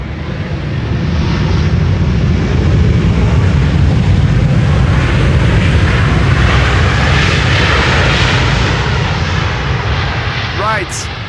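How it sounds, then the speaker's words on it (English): Heavy cargo jet arriving on the Polderbaan runway at Schiphol, a loud, sustained roaring engine rumble with wind noise, close and continuous, with voices talking over it. "Saudi Cargo flight 933 is arrived from Jeddah in Saudi Arabia."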